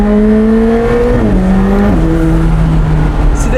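A McLaren 765LT with a roof scoop accelerates at half throttle, its engine note loud and close inside the cabin, the pitch climbing, dipping at gear changes and climbing again, with no talk over it.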